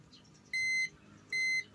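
An electronic tester buzzer used while repairing a 55-inch TCL television sounds two clear, high-pitched beeps, each lasting about a third of a second and spaced close together, over a faint background hum.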